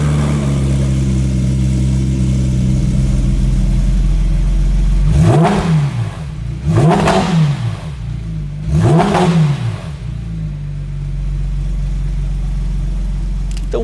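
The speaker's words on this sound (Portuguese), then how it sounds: "com o escape FabSpeed fica maravilhoso o ronco desse carro" A Porsche 911 with a FabSpeed sports exhaust idles, then three sharp revs rise and fall in quick succession, loud and close, before settling back to a steady idle.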